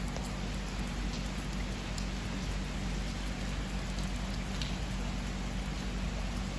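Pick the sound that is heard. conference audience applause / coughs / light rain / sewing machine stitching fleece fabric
light rain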